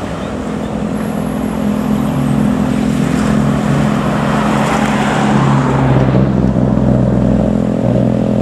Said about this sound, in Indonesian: Bis pariwisata Arjuna Samba ya.